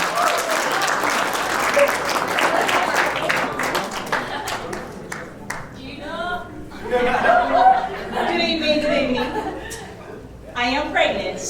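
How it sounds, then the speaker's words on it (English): Wedding reception guests applaud the speeches, with clapping strongest at first and then fading into laughter and talking voices. "One more big round of applause for everyone that gave a speech tonight."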